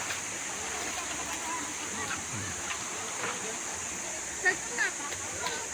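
Daranak Falls waterfall gives a steady, moderately distant rushing hiss, with people talking over it and a couple of brief nearby knocks.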